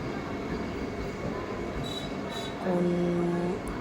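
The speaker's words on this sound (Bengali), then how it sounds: "এই যে ট্রেনটা দাঁড়াচ্ছে আস্তে আস্তে" A Vande Bharat train slowly pulls into a station with a steady rumbling roll, then the brakes squeal in a sustained, loud, near tone for about a second before easing off.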